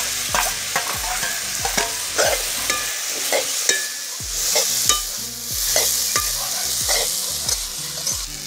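Tomatoes and small diced potatoes fry in a pan for a chickpea potato curry, with a loud steady sizzle and regular scraping stirs about every half second, close up with no voices.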